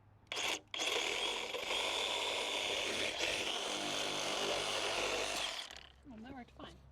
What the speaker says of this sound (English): Then we have to finish it with the Sawzall.